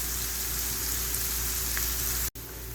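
Onions browning in a pan for karela pyaz give off a steady, close sizzle and crackle that holds evenly, briefly cut by a short dropout near the end.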